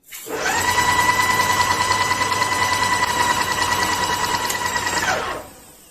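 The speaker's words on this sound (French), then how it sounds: "nous venons de vidanger l'intégralité du système qu'il y avait dans la machine" An ES 070 airless paint sprayer pump drains its system with a loud, steady mechanical whine and buzz that holds for about five seconds and then cuts off abruptly.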